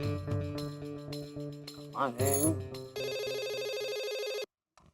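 A telephone rings on a call to Madhavi, a bright, sustained electronic ringtone trilling loudly for a couple of seconds before cutting off abruptly, preceded by background music and a brief voice.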